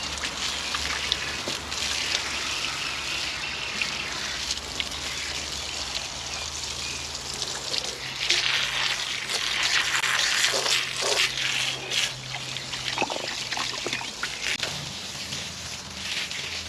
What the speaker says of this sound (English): we're going to use your hose to remove whatever is hanging in there